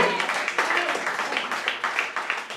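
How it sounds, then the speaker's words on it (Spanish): A church congregation claps for Jesus during a Spanish-language worship service: a dense, even patter of many hands that holds steady for a few seconds at moderate loudness, with some voices mixed in. "Denle un aplauso al Señor Jesús."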